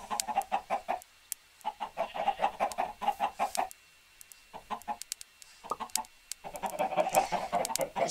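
Chickens cluck in a video game city-building world, with repeated bursts of clucking and short pauses between them, fairly close and loud, with no talking.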